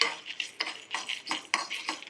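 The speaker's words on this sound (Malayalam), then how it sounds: "റെഡ് കളറിൽ വറുക്കണം." Chana dal and urad dal dry-roasting in a pan are stirred with a spoon, making a quick series of light scraping clinks and rattles, close up and fairly quiet.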